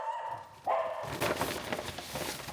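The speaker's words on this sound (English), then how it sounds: "the dogs may be a little barky for a second" Several dogs bark loudly and excitedly in a home, a burst of overlapping barks starting abruptly and continuing close by with little pause.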